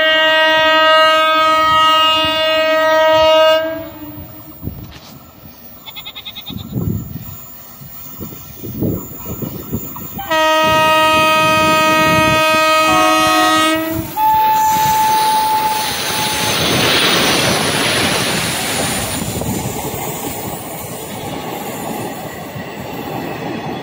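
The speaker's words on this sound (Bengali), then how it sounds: "নসিপুর রেল ব্রিজের দিকে প্রবেশ করছে" The 03020 Azimganj–Krishnanagar City passenger train enters the Nasipur rail bridge, sounding loud, long multi-tone horn blasts, then a wheel squeal and heavy steady rumbling as it rolls past close by.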